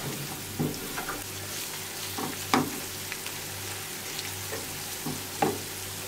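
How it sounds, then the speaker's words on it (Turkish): Tomato paste and spices sizzle quietly in a pan, with occasional scraping stirs and soft clinks from a utensil. No one speaks. "Bunları kavuruyorum. Şöyle birazcık salçanın kokusu çıksın."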